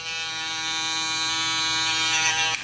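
A JVPro Shadow electric foil shaver runs steadily up close with a constant, fairly loud motor hum and buzz, alone for a few seconds before switching off.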